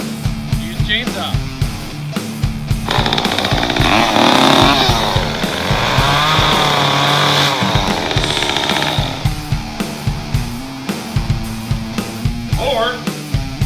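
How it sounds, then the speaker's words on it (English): A chainsaw runs to cut a cigar, a loud buzzing engine whine with rising and falling revs for several seconds, surrounded by clunky handling noises. "Or use a chainsaw."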